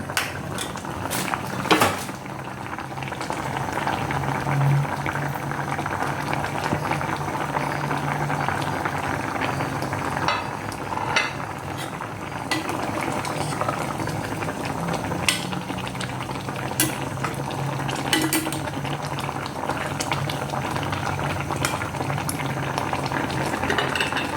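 A Thai bamboo shoot curry bubbles steadily in a pot as sweet leaf and young vegetable tops are added, with continuous boiling hiss and occasional stirring clinks nearby, no voices over it.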